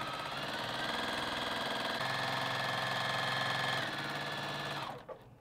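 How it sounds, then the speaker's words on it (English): A sewing machine runs steadily, stitching around the lining of a wine gift tote. The motor hums at an even pace for about five seconds, then stops with a brief clunk. "we're gonna sew all the way around right here and onto the sides"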